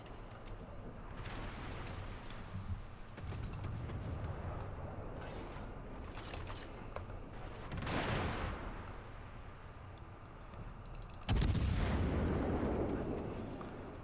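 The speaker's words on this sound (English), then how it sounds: "I like the gun sounds. The gun sounds nice and meaty." Heavy cruiser guns fire in the World of Warships game, several deep booming salvos spaced seconds apart over a low rumbling background, with the loudest blast coming near the end.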